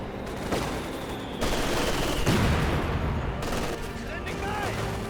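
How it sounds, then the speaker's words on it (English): A DShK heavy machine gun fires in Company of Heroes 2, its bursts rattling amid battle noise, with a voice talking over the fighting. "Dishka ripping apart that combat engineer."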